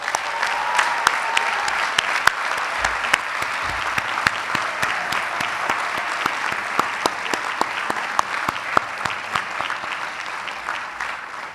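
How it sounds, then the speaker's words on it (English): Sustained applause from a large audience at a business school recognition ceremony, dense steady clapping with sharp individual claps standing out, continuing loud throughout without speech. "Give yourselves another round of applause."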